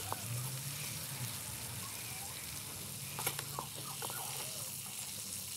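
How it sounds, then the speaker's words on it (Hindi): Fish frying in oil in a pan, a steady soft sizzle with faint crackles and a few small pops near the end, continuous and fairly quiet. "ये हमारी फिश तकरीबन फ्राई हो चुकी है।"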